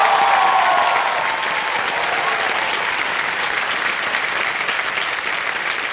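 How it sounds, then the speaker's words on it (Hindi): Sustained, dense applause from a Kaun Banega Crorepati Season 14 studio audience greets contestant Rajat Sharma, staying loud and even throughout with no voices over it. "जोरदार तालियां हो जाए रजत शर्मा जी के लिए।"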